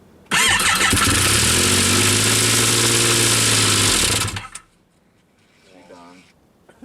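An old three-cylinder car engine cranks and catches, then runs loud, rough and uneven on fewer than all its cylinders for about four seconds before cutting out, followed by a brief faint voice.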